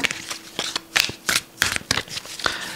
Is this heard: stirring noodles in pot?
no